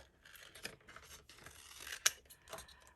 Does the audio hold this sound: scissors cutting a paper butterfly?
yes